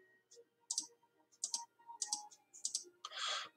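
Computer mouse clicking and dragging while drawing and reshaping shapes; a quiet, close series of sharp, separate clicks with irregular gaps, ending in a brief rustling scrape.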